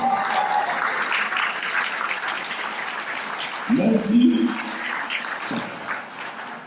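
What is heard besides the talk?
audience applause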